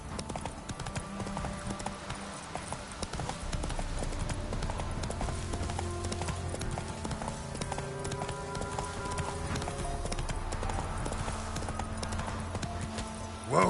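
Roach the horse's hooves clip-clop steadily in The Witcher 3 video game, a continuous rhythmic plodding under a busy game soundscape with music and ambient tones, with a brief voice near the end.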